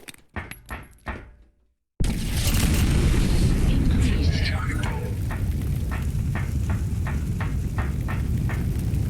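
A grenade blast in Fallout 4 erupts as a sudden loud boom after a few quieter thuds, then a long rumbling roar with rhythmic crackling continues to the end.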